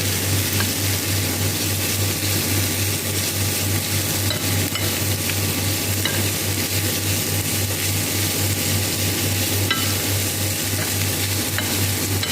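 Meat frying in oil with butter added, stirred in the pan: a steady, close sizzle with scraping and stirring throughout, alongside a constant low hum, no voices.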